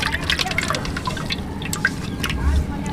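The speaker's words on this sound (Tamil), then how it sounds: "மஞ்சள் பொடி போட்டு நல்லா வாஷ் பண்ணிக்குவோம்." Snails washed in water with turmeric powder make quick wet splashes and drips, close and busy, under a voice that talks throughout.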